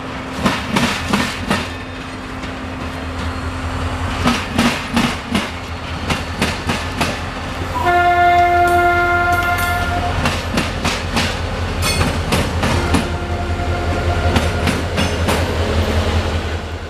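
A freight train rolls on the Plant City connection with a rhythmic clickety-clack of wheels over rail joints, and its horn sounds one sustained blast midway before the clatter carries on close and loud.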